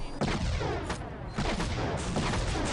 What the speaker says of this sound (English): Let's use the rocket launcher.